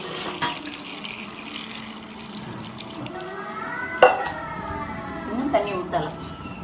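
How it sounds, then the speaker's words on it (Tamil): Tamarind water pours and splashes into a pot of fish curry, with a few metallic clinks of cookware and some talking in the background. "இன்னும் தண்ணி ஊற்றலாம்."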